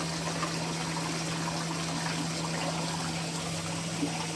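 Water falls steadily from a duck-beak aerator outlet into a greenhouse tank, a continuous close trickle and splash over a constant low pump hum.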